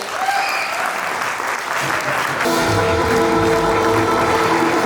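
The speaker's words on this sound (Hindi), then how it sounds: "प्लीज जोरदार तालियां हमारे नीरज सर के लिए।" Applause breaks out from an audience at a corporate team event, dense and sustained, with music joining partway through and swelling beneath the clapping.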